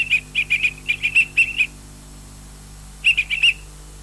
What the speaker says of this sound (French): On entend même les petits oiseaux.